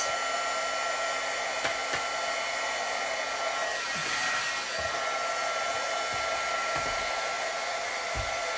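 A heat gun blows steadily at close range, melting gold embossing powder on a handmade card; the airflow hums continuously throughout with a few faint clicks and low thumps underneath.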